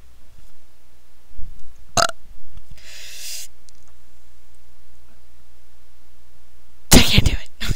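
Two loud burps during a late-night burping contest among bored friends: a short sharp belch near the start, then a longer, louder rasping burp at the end, with quiet room noise and a brief hiss between.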